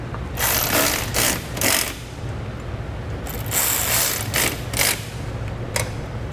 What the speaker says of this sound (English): Now we need to grab a 4mm Allen key and a 10mm wrench,